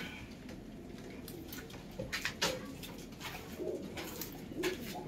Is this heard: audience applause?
no